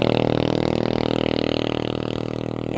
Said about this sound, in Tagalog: Mayroong mga motorsiklo na dumadaan.